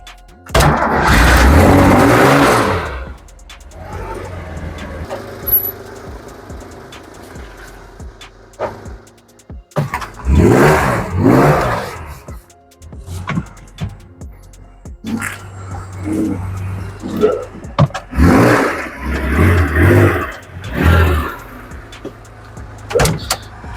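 A car at a garage starts up and revs in loud bursts, with pauses between throttle blips and idle, plus mechanical clicks, heard up close for over twenty seconds.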